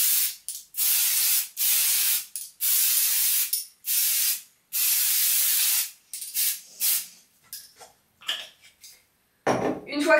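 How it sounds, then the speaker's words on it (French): Texturizing hair spray misted onto curly hair in several long bursts, loud and close with short gaps between them, then fainter rustling and handling sounds. "et voilà, c'est un spray qui va texturiser"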